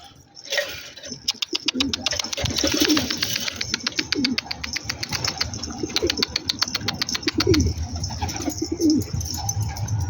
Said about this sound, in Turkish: 3-4 tane uçan kuş var şu an yukarıda.